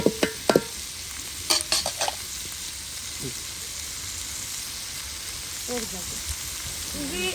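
Sliced onions fry in a pan, a soft, steady sizzle running throughout, with a few clanks of a utensil at the start and brief voices talking over it.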